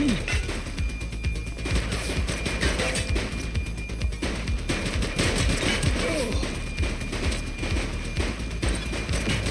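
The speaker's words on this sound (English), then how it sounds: "Shots fired!" Heavy gunfire in a bank-robbery shootout from a police video game, rapid overlapping shots and thuds crackling continuously at close range, with shouting voices mixed in.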